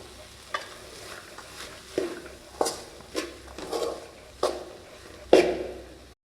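A spatula stirs kollu poriyal, a horse gram stir-fry, in a pan: about eight scraping strokes at an uneven pace over a soft, steady sizzle, with no talking.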